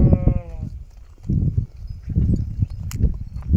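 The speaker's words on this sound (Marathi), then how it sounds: "ते तिकडे शेळ्या चालल्या" A mixed herd of goats and sheep passes by outdoors, with a brief bleat at the start followed by shuffling movement and low rustling noise.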